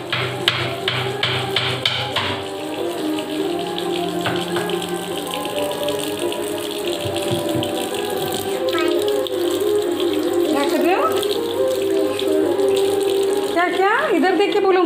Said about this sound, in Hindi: बेसिन धो रहे हो?